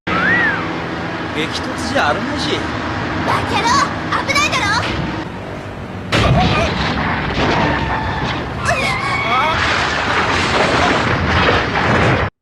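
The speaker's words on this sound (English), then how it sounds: "they quickly find themselves stuck in a gunfight between 2 groups of vehicles trying to run each other off the road" Gunfire and crashes in a vehicle gunfight from the game California Crisis, with sharp bursts and engine noise mixed under game sound effects and voice-like tones, loud and busy throughout with a heavy impact midway.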